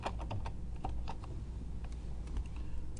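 A name is typed on a computer keyboard into a math spreadsheet, a rapid run of close, light key clicks in uneven bursts with no talking.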